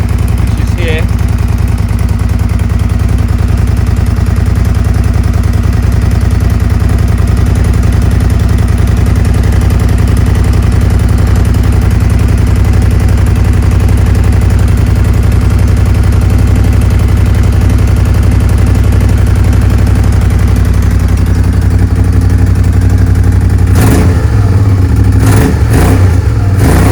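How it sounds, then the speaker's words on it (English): A Suzuki SV650S motorcycle engine idling with a steady low rumble, then revving briefly near the end, heard close and loud while people talk over it. "The engine is running sweet"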